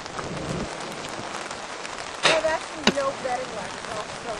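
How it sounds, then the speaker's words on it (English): Rain patters steadily on a campsite in a thunderstorm, with a couple of sharper knocks and brief voice-like sounds partway through. "it's starting to rain again"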